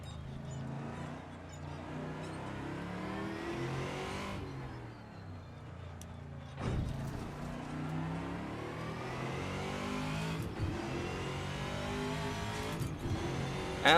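An American V8 Trans-Am TA2 race car in the Assetto Corsa racing game revs hard through repeated upshifts, the engine note climbing and dropping with each gear change, with brief tire squeal, loud and continuous.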